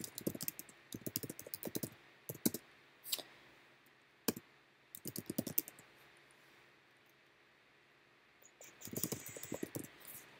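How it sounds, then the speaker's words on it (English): Bursts of quick clicks from a computer keyboard as an email is typed, with short pauses between flurries and a few isolated single clicks, close and fairly quiet, with no voices. "And then you can just type in their email."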